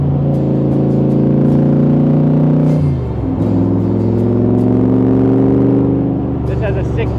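A 1965 Superformance Shelby 427 Cobra with a Roush 550 HP engine drives along, its loud close engine note holding steady, dipping as it shifts near three seconds, then pulling again under wind noise.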